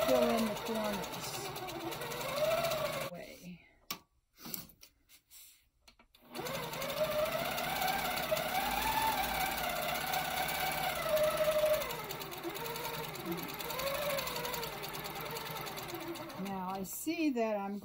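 Longarm quilting machine running steadily while echo quilting near red fabric, a loud continuous mechanical whir with a brief stop partway through, a person talking over it.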